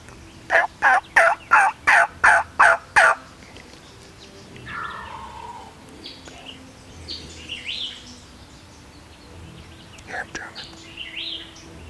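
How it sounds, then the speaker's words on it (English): Wild turkey tom gobbles in a rapid burst of about eight loud pulses while hunting in the woods, followed by softer hen yelps and calling that answer at intervals, with faint whispering. "he yelped back, and the tom gobbled"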